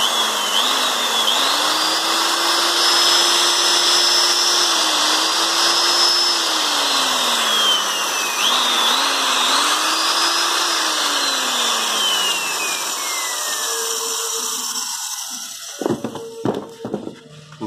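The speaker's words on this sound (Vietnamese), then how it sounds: "Này con khoan của Zobi nhá, Zobi các bác nhá." Japanese 100V Zobi electric drill rated 7 amps and 1100 rpm running steadily, a close, smooth motor whine that ramps up and down in pitch twice before winding down, ending with a few clicks and knocks.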